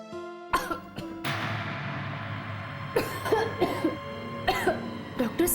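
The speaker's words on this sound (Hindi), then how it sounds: "थोड़ी सी खांसी हो रही।" A woman coughs in a series of harsh, close bursts, several separate fits spread across a few seconds with a steady low background between them.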